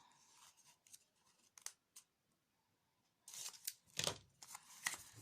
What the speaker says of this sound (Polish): bierzemy nożyczki i obcinamy